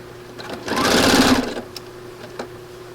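A sewing machine stitches quilt pieces in one steady burst of about a second, rising and fading, with a quiet room around it and no talking.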